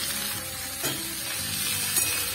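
Carrots, pumpkin and other firm vegetables fry in a pan for vegetarian masoor dal. A steady close sizzle and hiss runs throughout, with a faint stir or clink of the pan.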